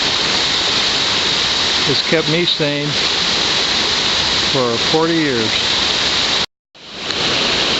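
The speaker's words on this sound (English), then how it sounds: "All your troubles fly away if you listen to this creek." Flint Rock Creek flows in a loud, constant rushing wash close by. Someone speaks briefly over it, and the sound cuts out for a moment before resuming.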